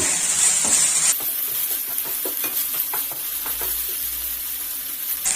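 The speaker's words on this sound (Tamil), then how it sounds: "இஞ்சி பூண்டு பச்சை வாசனை போற அளவுக்கு நல்லா வதக்கிக்கோங்க." Onions, ginger and garlic sizzle steadily in a hot pan while being sautéed for a tomato masala, with a constant frying hiss and a few soft stirring scrapes close by.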